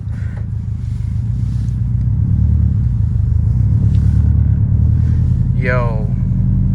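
A 2021 Subaru STI with a loud exhaust idles close by, a deep, steady rumble that stays constant, with a brief rising chirp near the end.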